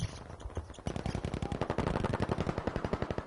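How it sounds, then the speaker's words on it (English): Rapid automatic gunfire in a competitive video game match rattles in fast bursts, settling into a steady, dense stream of shots after a brief, choppier opening. "Lots and lots of gunfire"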